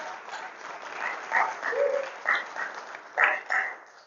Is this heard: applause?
yes